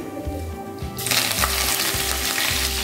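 Green chilies and curry leaves dropped into hot oil with spices, a sudden burst of loud crackling sizzle after a quieter start with soft stirring taps.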